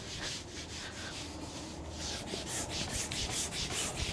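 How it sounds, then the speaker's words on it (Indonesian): A screen-printing screen is rubbed firmly against a sweater to seat it tight, giving a steady close scrubbing, rasping friction with rhythmic back-and-forth strokes throughout. "Terus kita harus gosok nih pas masangnya."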